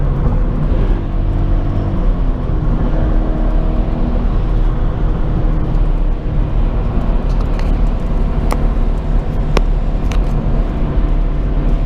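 A Subaru BRZ driving on the road, its engine and tire roar holding a steady, loud drone from the cabin with a few faint clicks and no talking.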